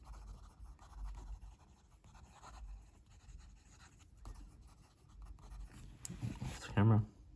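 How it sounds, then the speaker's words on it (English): Platypus Quokka fountain pen writing quickly on paper, soft faint scratching strokes close by, with a person talking over much of it. "this pen writes beautifully with it. And even with quick writing"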